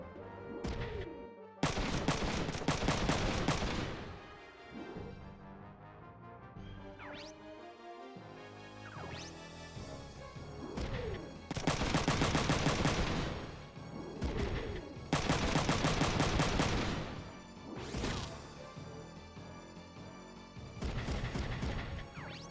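Rifle fire in the video game Front Mission 3 arrives as several separate loud bursts of rapid shots, with quieter game sounds filling the gaps between them.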